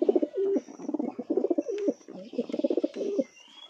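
Giribaz and Madras pigeons cooing close by in a run of repeated soft throaty coos and burbling calls, with faint chirps in the background.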